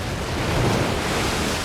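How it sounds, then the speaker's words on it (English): Surf crashes against rocks near an island in a survival story, with gusting wind blending into a dense, loud, continuous roar and no voices. "Waves are smashing and crashing on the rocks up there."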